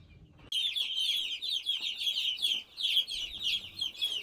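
Young chickens in a home poultry house, an almost continuous stream of high, busy peeping and chirping from many birds close by, starting abruptly after a brief low rumble.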